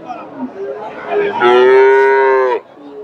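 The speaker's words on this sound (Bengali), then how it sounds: "চমৎকার একটা বাচ্চা এখানে দেখতেছি ফ্রিজিয়ান চমৎকার একটা বাচ্চা আর এটা গাভী" A Friesian cow at a rural cattle market in Gabtoli, Bogura, lets out one loud, drawn-out moo lasting about a second. Softer crowd murmur and lowing come before it.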